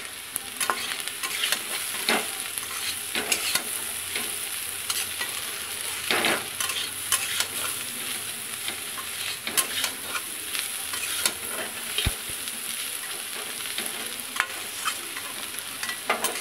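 Potato pieces fry in a little oil with salt and turmeric in a pan, giving a continuous loud sizzle broken by repeated scraping stir strokes and spatula knocks, with no one talking.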